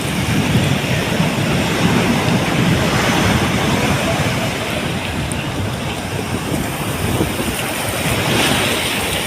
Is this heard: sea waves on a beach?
yes